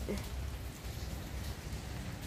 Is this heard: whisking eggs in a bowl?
no